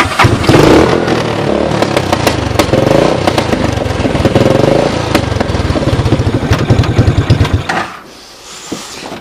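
A Honda TRX200SX engine fitted in a converted 1988 EZGO UTV starts and runs with a loud, close, clattering idle and a few revs, then cuts back sharply near the end.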